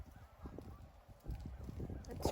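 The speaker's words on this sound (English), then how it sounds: "There's a lot of ducks flying from the lake." Ducks flying up from a frozen lake on windy farmland give rough, honking calls that rise and thicken toward the end. Wind noise runs through the whole stretch.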